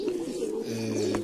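Mardin pigeons cooing up close, a soft, low, rolling coo that swells and repeats through the short moment with no other sounds around it.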